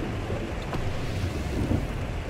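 Heavy rain roars steadily with low rumbling like distant thunder, a dense wash of noise with no voices, in the video game SnowRunner.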